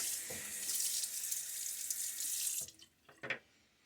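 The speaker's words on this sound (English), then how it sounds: "All right, get a little rinse." Tap water runs steadily for a shave rinse, a bright hiss that cuts off after a couple of seconds, followed by a few faint splashes and drips.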